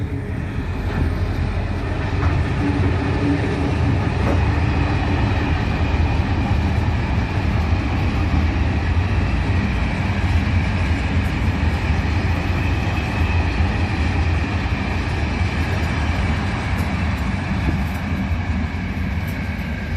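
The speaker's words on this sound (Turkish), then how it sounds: "Dışarıdan trenle geçiyor." A steady, loud rumble of a train rolling past, continuous and unbroken with a faint rhythmic clatter throughout.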